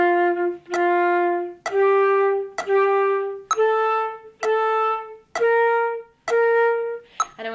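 Flute playing a descending scale, each pitch tongued as two even quarter notes, clear, close and steady with brief breaths between notes.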